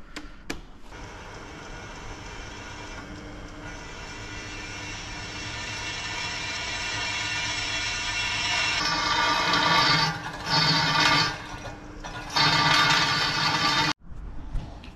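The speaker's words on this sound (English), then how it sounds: "now I'm going to drill the holes for the mounting plate" A drill bores holes for a winch mounting plate in a workshop, fitting a winch inside a Volkswagen Transporter: a steady motor whine runs close by, then breaks into several short bursts with brief pauses near the end.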